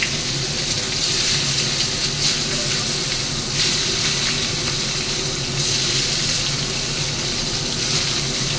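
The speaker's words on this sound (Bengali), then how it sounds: "এবার দেখো বেগুনগুলো আমি ভাজছি একটা একটা করে।" Eggplant slices frying one by one in a pan of hot oil, giving a loud, continuous hiss that stays close and even throughout with small surges, and no talking.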